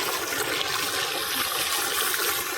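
Water from a motor-driven pump gushing onto ripe papaya as it is washed, a steady broadband splashing and rushing stream that stays constant and close throughout.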